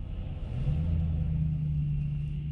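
Steady low engine rumble of cars creeping through stopped, slow-moving traffic on a road in Quebec, a continuous drone with a rising hum as a vehicle eases forward nearby.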